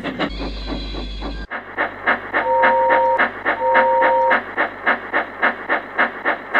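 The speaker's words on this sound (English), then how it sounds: "Thomas likes whistling rudely at him" A steam locomotive chugs in a steady rhythm, then lets out two short, clear two-tone whistle blasts close by.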